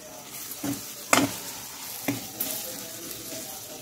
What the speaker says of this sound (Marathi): आता आपण टोमॅटो याच्यामध्ये फ्राय करून घेऊ आणि टोमॅटो सॉफ्ट होईपर्यंत आपण हा मसाला फ्राय करून घ्यायचा आहे.